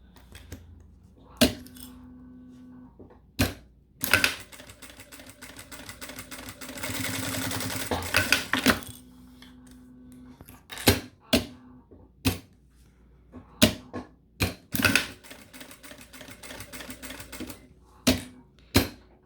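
A sewing machine stitches the sides of a zippered accordion wallet in short, loud rattling bursts separated by quiet gaps, with one longer continuous run of stitching in the middle.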